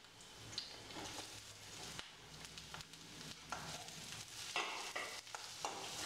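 Onion sautéing and being stirred in a pan with softened cabbage for a vegetable macaroni dosa filling, a steady sizzle with repeated spatula scrapes throughout.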